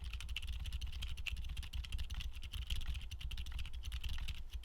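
Steady, fast typing on a keyboard fitted with silent linear switches, producing soft, muted clacks in a quick uneven rhythm, close and fairly quiet with no talking.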